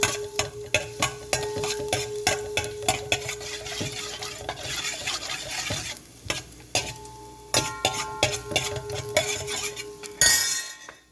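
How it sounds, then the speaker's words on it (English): Garlic fries in a pot for soup while a utensil stirs it, bringing steady sizzling under repeated scraping clinks and knocks against the metal in an uneven rhythm, close up, with no talking. "Fry it for about half a minute, stirring it"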